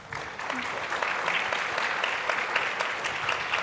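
Audience applause at a talk on building a more inclusive future for tech: a steady wash of many hands clapping that fills the room for several seconds, evenly loud throughout with no voices over it.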